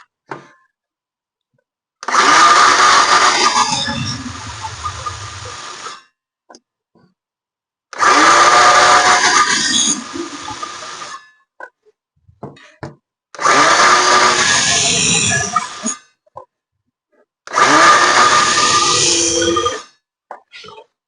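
A new circular saw whines loudly through four separate shallow cuts, each lasting about four seconds, with short silent gaps between them.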